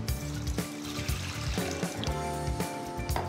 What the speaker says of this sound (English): I'm going to pop it into the pan here.